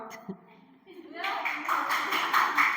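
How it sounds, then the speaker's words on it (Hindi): Students in a classroom break into applause: a quiet, scattered start, then a dense, sustained burst of many hands clapping together that carries to the end. "ताली बजाओ।"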